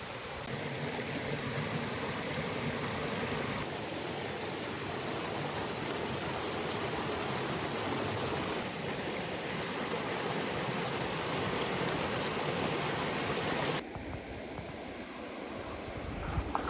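A river in the Kaimanawa backcountry of New Zealand, rushing steadily with a broad, continuous wash of water, close and loud, with a slight change in tone near the end.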